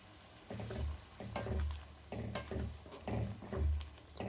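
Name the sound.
meal maker soya chunk gravy boiling in a pan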